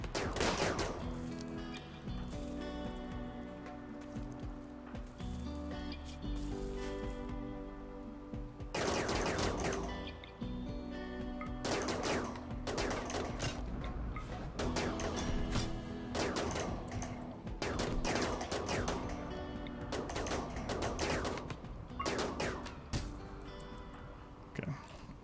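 Shotgun blasts and other gunfire in a multiplayer video game, dense repeated bursts over a steady music and effects bed for most of the stretch, with some voices mixed in.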